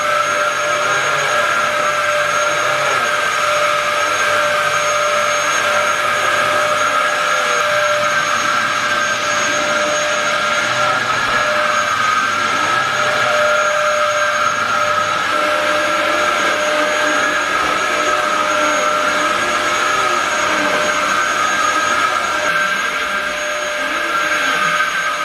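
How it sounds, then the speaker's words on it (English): A household hoover runs steadily and loudly throughout, a constant whine with a high tonal hum that never lets up, close by and with no voices. "I have to use a different hoover"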